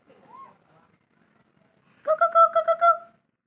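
An Asian koel calls a quick run of six clear, repeated notes, fairly close and loud, after a faint short note and a quiet pause.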